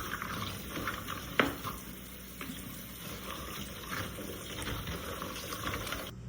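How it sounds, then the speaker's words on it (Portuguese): Food is rinsed under running water from a tap: a faint, steady splashing hiss with small irregular spatters and one brief clink, close by and without talk. "Então eu gosto de dar mais uma passada de água."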